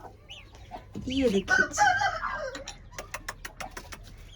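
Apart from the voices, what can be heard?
hen and chicks clucking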